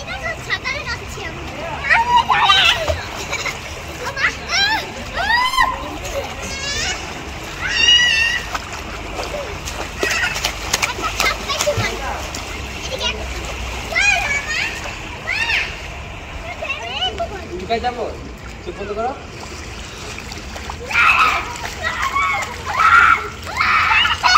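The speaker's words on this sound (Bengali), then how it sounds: "ইপসিটা সাঁতার কাটো তো।" A child swims and splashes in an outdoor pool at night, with light splashes and water sloshing nearby, while voices talk and call out over it throughout.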